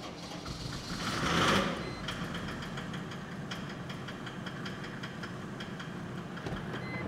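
A Mercedes W210 E300td diesel with a newly fitted EDC pump runs after starting, its knocking idle steady and close, with a brief louder rev near the start.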